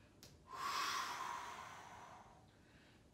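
One slow, deep breath is drawn and released through the nose during a yoga balance exercise. It swells quickly, then fades over about two seconds, quiet and close.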